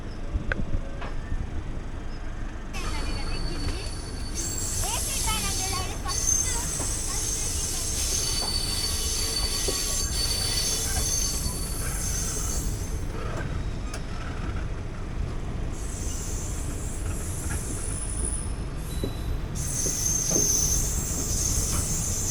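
The 23-coach Sabari Express passenger train pulls out of the station with a continuous rumble, sharp squealing wheels and intermittent clatter, heard from inside a coach.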